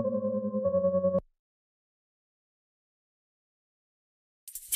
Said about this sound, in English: Pad with LFO.